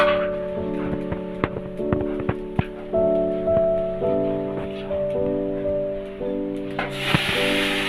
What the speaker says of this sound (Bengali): এবার আমি জলটা দিচ্ছি।